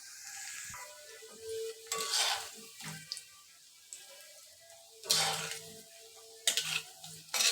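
Chicken crunch bites, spiced chicken fritters, frying in oil with a soft steady sizzle broken by intermittent bursts of stirring and utensil scrapes.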